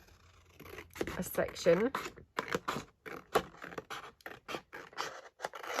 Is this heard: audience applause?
no